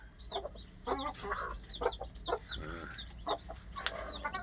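Chickens cluck and chirp in short, repeated bursts close by, with a busy farmyard background and no talking.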